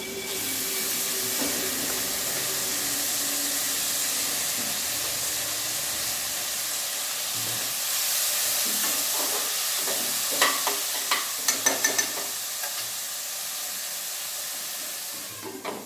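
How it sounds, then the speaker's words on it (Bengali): Boiled ash gourd peel goes into a hot pan and fries with a steady hissing sizzle, followed later by a few sharp stirring clicks and scrapes near the end. "এবার আমি সেদ্ধ করে রাখা চাল কুমড়োর খোসা ভাজাটা দিয়ে দেবো"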